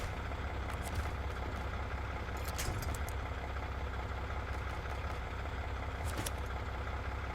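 A heavy truck engine idles steadily in the SnowRunner video game, with a low, constant rumble and faint clicks and rattles over it, with no talk.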